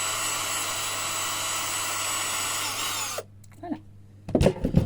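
A power drill whines steadily as it enlarges a hole in a mounting plate for a cattleya orchid, then cuts off abruptly, followed by a few small knocks and a burst of close handling noise.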